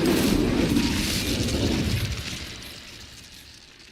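The Incendio fire spell cast in Hogwarts Legacy, a loud whooshing burst of flame that decays over about three seconds; no talking.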